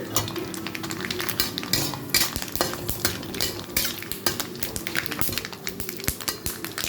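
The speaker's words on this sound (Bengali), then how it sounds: "সর্ষে কিন্তু একটু ফোটে, দূরে সরে যেতে হবে।" Mustard seeds spluttering in hot oil with chili flakes during tempering, a dense run of close crackles and pops mixed with scraping of a utensil in the pan, continuous throughout.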